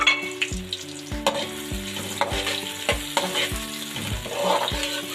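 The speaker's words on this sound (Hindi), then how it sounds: "मैं इसके अंदर प्याज डाल रही हूँ। प्याज को फ्राई कर लेते हैं।" Onions frying in oil in a kadai give a close sizzle broken by regular scraping knocks of a spoon stirring the pan, roughly every half second to second.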